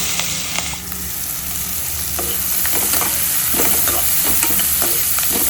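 Green chili dropped into foaming butter in a hot pan, giving a steady close sizzle and frying crackle with stirring scrapes throughout.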